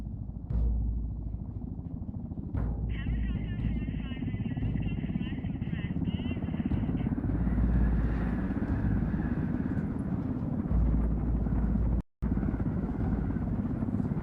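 Helicopter in flight in the video game Ghost Recon Wildlands, a loud continuous low rotor and engine drone, with a radio voice and tones layered over it, cutting out briefly near the end.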